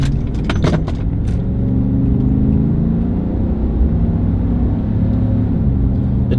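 A 2015 Chevy/GMC 1500 pickup truck engine running while driving, a loud steady low rumble and drone with slight revving, a few brief clicks near the start, and no talk.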